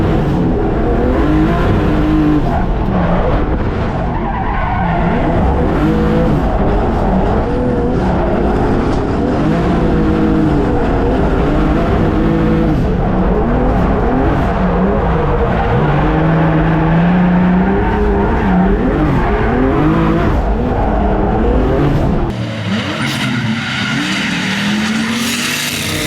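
A BMW E36 competition car is driven hard on a race track, its engine loud and continuous with rising and falling revs and tire squeal through drifting transitions, ending with a sudden drop in level.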